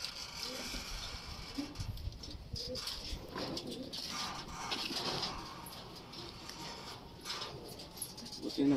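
Racing pigeons at a derby loft coo repeatedly in soft, low rounds, fairly close, with faint background chatter and ambient noise.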